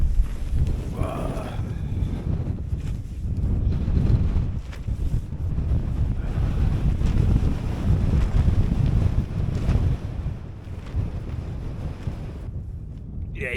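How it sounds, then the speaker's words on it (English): Strong wind at a hilltop campsite on High Snockrigg at Easter, loud gusting buffets and roars into the microphone without a break, swelling and easing throughout. "Well, let's go out and brave the wind."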